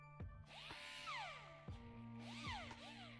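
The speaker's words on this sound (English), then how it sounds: "let's go ahead and use our drill" A power drill whirs in the video game Gone Rogue at a power station, with two bursts of rising and falling mechanical whine and clicks, fairly faint and alone.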